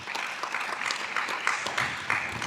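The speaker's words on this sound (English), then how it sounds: "A big round of applause for that committee" Applause from an audience at a university career talk, a steady crackle of many hands clapping throughout, moderately loud and even with a few sharper accents.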